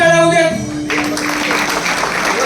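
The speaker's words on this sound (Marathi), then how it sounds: "एकदा जोरदार टाळ्या होऊ द्या." Audience applause at a Guru Purnima celebration held at an institute, a dense burst of clapping that begins after a short tonal sound and carries on steadily to the end.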